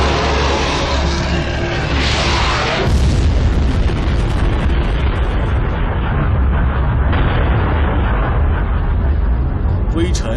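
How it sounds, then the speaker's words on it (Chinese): An asteroid impact explosion produces a loud, sustained rumbling roar that surges sharply about three seconds in and then keeps thundering for several more seconds. "这次撞击爆炸引起的激波加热了空气，灼热的风几乎要把地球给烤焦了。"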